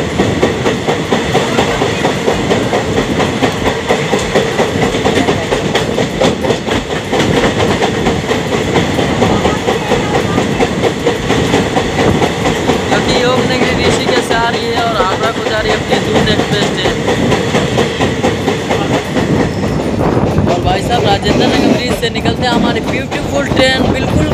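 The Mithilanchal Express rumbles loudly and continuously as heard from inside a general coach, with steady wheel clatter and rattling carriage noise throughout.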